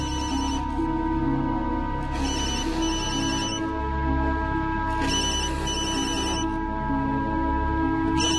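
A telephone rings in repeated bursts of bright, trilling tones with short pauses between them, loud and close over a steady background, with no talking.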